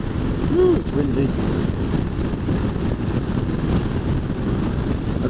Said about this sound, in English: I can't even hear myself talking.